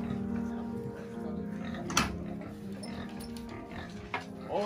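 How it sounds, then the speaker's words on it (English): Pigs grunt and snuffle in their pens on a pig farm in DRC, a steady close chorus with sharper grunts standing out at about two and four seconds, over general barn noise. "4 pigs there."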